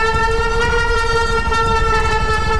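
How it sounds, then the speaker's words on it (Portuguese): A car horn blares continuously in a GTA RP video game, one loud, unbroken nasal tone with steady harmonics held for the whole stretch over low engine rumble. "Ô, você tá testando buzina?"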